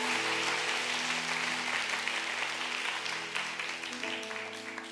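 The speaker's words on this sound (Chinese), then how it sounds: "我们给他们热烈的掌声" An audience at a church gathering claps in sustained applause, dense and continuous, easing slightly toward the end over faint steady background tones.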